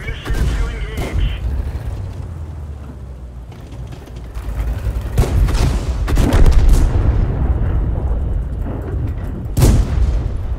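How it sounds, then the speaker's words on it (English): Game cannon fire from a T2 medium tank launching high explosive shells in World of Tanks, several heavy booming shots spread across a dense rumbling battle mix, with bursts near the start, middle and end. "Firing high explosive out of a T2 medium."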